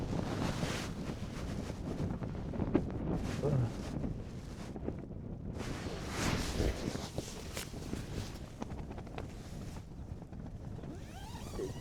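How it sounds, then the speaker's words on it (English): Strong gusty wind buffets and roars continuously outside a Fjallraven Abisko Lite 2 tent in the Black Mountains, with rumbling low noise and fabric-like flapping, close to the microphone; no talking. "bloody windy."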